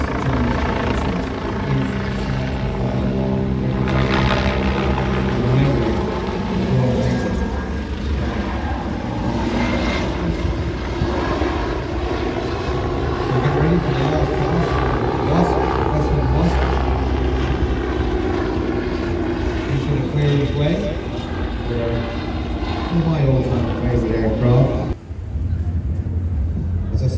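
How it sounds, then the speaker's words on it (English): Navy Wings propeller aircraft droning over a harbour at an air show, a continuous loud rasping roar from the propeller tips that shifts in pitch as it passes, with a voice talking over it. "you will hear this rasping sound coming from the harbour. It's the tip of the propeller, not the engine making the noises."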